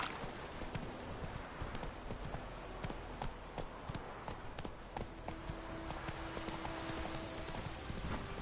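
Horse hooves clip-clop steadily on the ground in The Witcher 3 video game, a rhythmic, continuous trotting patter with faint ambient background and no talk.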